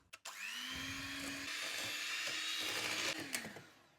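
An electric mixer whips cold, thick sour cream from the fridge for a cake, its motor starting with a click and then whirring in a steady, even drone before winding down.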